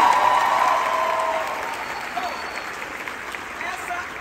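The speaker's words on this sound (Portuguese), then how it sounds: "aplaudir Daniel, pode aplaudir" An audience applauds a performer named Daniel at the final performance of a stage musical, dense and loud at first, then thinning and fading as a voice speaks over the tail.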